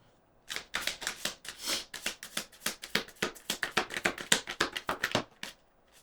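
Tarot cards being shuffled by hand, a quiet, close run of quick riffling and flicking bursts that speed up into a dense, steady patter over several seconds.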